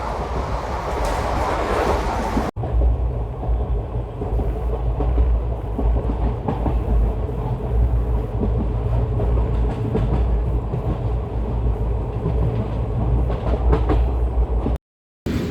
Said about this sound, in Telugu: బండి చూసారు ఎలా ఊగేస్తుందో మ్యాక్సిమం కొట్టేస్తున్నాడు వంద కిలోమీటర్లు దాటేసింది స్పీడు